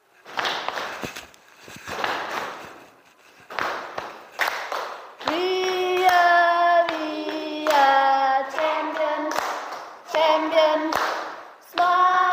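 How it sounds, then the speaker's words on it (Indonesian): Schoolchildren in a classroom doing a rhythmic champion clap routine: bursts of sharp hand claps in patterned groups, mixed with chanted, sung voices, close and lively. "Kita tepuk champion."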